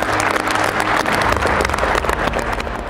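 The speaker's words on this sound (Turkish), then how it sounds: "Bir daha alkışlayalım bakalım." Loud, dense applause from an audience at the announcement of a national team's European Championship squad, continuous throughout with no voices on top.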